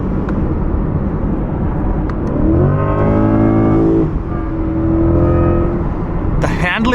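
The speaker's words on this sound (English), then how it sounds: "That's from the front motor, the electric motor." A Corvette C8 E-Ray accelerates with a rising electric whine from its front electric motor layered over road and engine noise, pitch sweeping upward, then easing off near the end.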